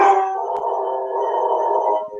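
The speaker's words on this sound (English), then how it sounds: "Yeah, that's my dog" A dog howls in one long, steady, loud tone close to the microphone, held for about two seconds before trailing off, with no talking over it.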